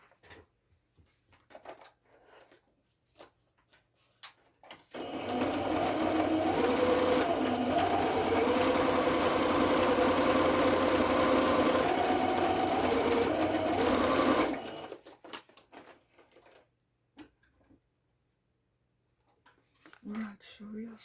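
A sewing machine stitches down the edge of a vintage-style fabric envelope, running loud and steady for about ten seconds without a break. Quiet handling noises come before it and after it.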